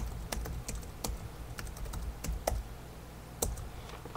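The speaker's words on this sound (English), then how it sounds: "I'm going to type it in the chat quickly for you." Quick bursts of typing on a computer keyboard, close up: irregular clusters of crisp key clicks separated by brief pauses over a low background hum, with no talking.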